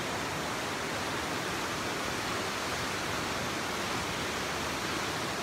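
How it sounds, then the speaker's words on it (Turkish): The At İzi waterfall in a forest near Doğankent, Giresun, rushes in a steady, dense, broadband roar with no pauses or voices. "Şimdi bu At İzi şelaleleri bir."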